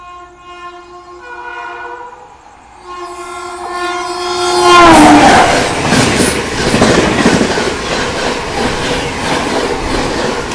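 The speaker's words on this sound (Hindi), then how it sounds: "चुनार पे ओवरटेक कर रही है हमें train number 12260 Bikaner सियालडा AC superfast Duronto" Train 12260 Bikaner–Sealdah AC Superfast Duronto blasts its horn in a long sustained call, then roars past close by while overtaking, wheels clattering loudly over the rails.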